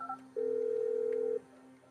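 A phone button tone from the video game Grand Theft Auto V rings out as one steady, loud electronic beep lasting about a second, following a couple of brief, fainter blips at the start, with no talking.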